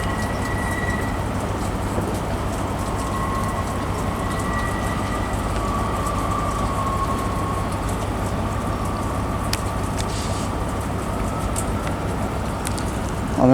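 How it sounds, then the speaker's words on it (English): A ScotRail Class 158 diesel unit pulls out of Aberdeen station on a service to Stonehaven, its engine droning steadily up close for a long stretch, with a faint tonal whine over the rumble. "158701 departing with the 1802 ScotRail service from Inverness to Stonehaven"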